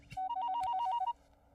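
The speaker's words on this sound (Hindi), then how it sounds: "अभी बात ही कर रहे थे और उनका फोन आ गया" A telephone rings with an incoming call, a rapid electronic warble of repeated alternating tones lasting about a second, loud and close with no talk over it.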